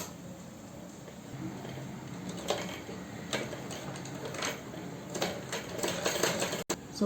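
A sewing machine stitching around the edge of a round neckline on a garment: soft, continuous mechanical whirring with faint ticking pulses, fairly quiet and steady, with light talk now and then.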